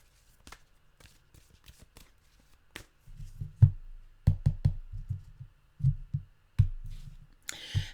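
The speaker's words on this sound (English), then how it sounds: "I'll give them a fast shuffle." A deck of tarot cards gets a quick shuffle: soft riffling, then a run of fast, close, papery slaps and thumps in an irregular rhythm, with no talking.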